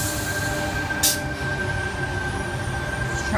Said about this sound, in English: Arriving onto platform. Arriving onto number two.